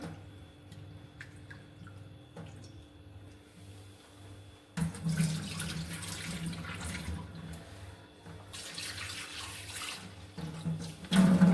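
Liver is rinsed under a running tap, with quiet handling and faint drips at first, then a strong rush of water splashing into the sink that pauses briefly before returning louder.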